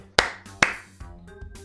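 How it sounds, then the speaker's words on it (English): A few sharp, close hand claps ring out, two crisp ones followed by a couple of softer, scattered claps. "And you hear some clapping."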